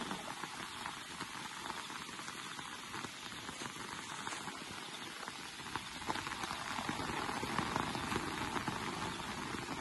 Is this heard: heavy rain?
yes